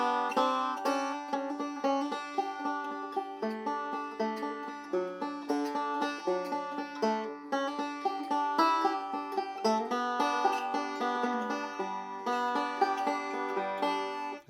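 Banjo plays a tune with rapid forward rolls, a continuous bright stream of plucked notes at even volume for about fifteen seconds, no voice.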